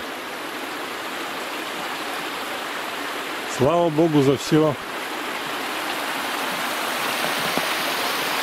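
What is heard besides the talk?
water flowing through a breach at a camp pond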